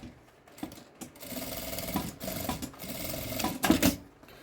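A sewing machine stitches through fabric lining on a box made from milk cartons, running in short bursts with brief pauses, close and fairly quiet.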